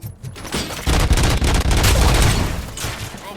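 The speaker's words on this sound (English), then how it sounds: "Gunshots? What's going on?" Gunfire in the video game RoboCop: Rogue City, with a dense, loud volley of shots blending into a sustained roar over a few seconds.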